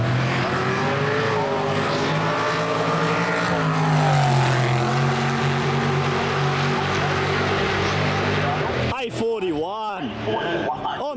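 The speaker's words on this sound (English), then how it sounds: "Here comes Steve for his first round of elimination in the modified class" A naturally aspirated, modified-class drag racing motorcycle at a drag strip makes a loud, sustained engine roar whose pitch rises and sways, then breaks into a rapid wavering buzz near the end, with a voice talking over it.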